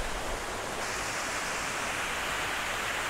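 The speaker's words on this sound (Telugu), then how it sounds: "చాలా పెద్దగానే ఉంది వాటర్ ఫాల్" A large waterfall in Araku Valley gives off a steady, dense rushing roar, close and unbroken, with no voices.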